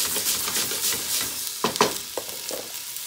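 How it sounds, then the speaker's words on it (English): Vegetables tumbling into a pot for chicken soup and being stirred, a few soft clattering thuds and scrapes close by over a faint steady hiss, with no talking. "And now I'm going to add all my vegetables. Give that a good stir."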